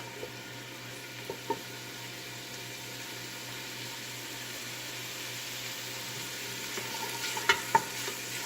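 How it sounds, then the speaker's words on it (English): Onions fry gently in a pan, a soft, steady sizzle over a low background hum, with a few faint clicks and taps near the start and end. "And now our onions are starting to fry up here a little bit."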